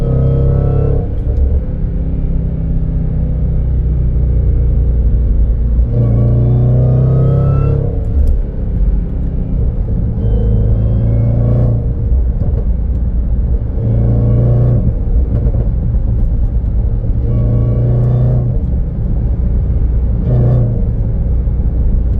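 A Jaguar F-Pace SVR engine revs hard through the gears, including third, loud and close, with the pitch climbing and dropping repeatedly and brief exhaust pops and bangs between surges.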